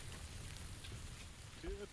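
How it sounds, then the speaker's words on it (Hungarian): Rain falls steadily in a first-person battle game, a soft continuous hiss of drops on surfaces, fairly faint and even, with a brief tonal blip near the end. "Főleg, hogy az eső miatt nem hallunk semmit."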